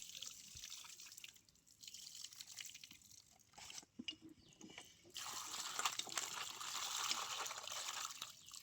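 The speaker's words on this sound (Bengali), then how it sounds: "এরপর এগুলোকে আমি ধুয়ে নেব, খুব ভালো করে ধুয়ে নেব দুবার তিনবার ধরে।" Sea crabs are washed in water, with soft splashing, trickling and dripping sounds at close range, fairly quiet and rising slightly toward the end.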